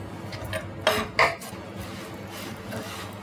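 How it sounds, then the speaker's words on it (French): Two quick clattering knocks of sliced fennel dropped into a metal saucepan, then quiet scraping and rustling. "Alors, on le met dans la casserole directement."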